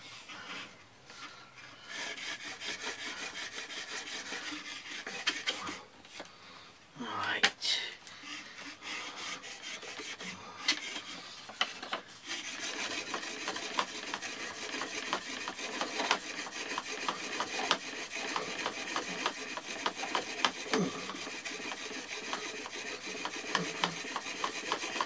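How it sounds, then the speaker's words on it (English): Sawing with a wooden blade across a wooden base to make friction fire: a long run of steady rasping back-and-forth strokes, close and continuous, with one brief pause partway through. "and then we're going to saw with this"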